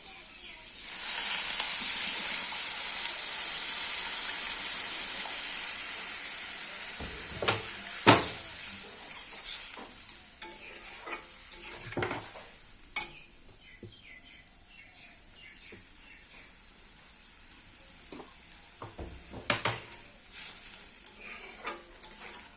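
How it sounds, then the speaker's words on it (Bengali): Water poured into a frying potato curry sets off a loud burst of sizzling that gradually fades into quieter bubbling, with scattered clinks and scrapes of stirring and a few faint sounds of talk. "এবার আমি জল দিয়ে দেবো"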